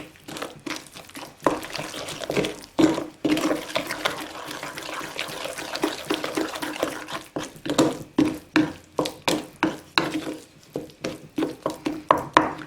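Whole wheat freshly milled flour and room-temperature water being stirred into a sourdough starter, close wet squelching and scraping strokes that quicken into a regular rhythm of sticky slaps toward the end.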